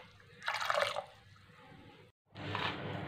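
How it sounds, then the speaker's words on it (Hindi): Water poured into a pot of chickpeas, a faint splashing pour in two short bursts separated by a brief silent gap. "इसमें तकरीबन थोड़ा सा पानी आप और ज़्यादा डाल दें।"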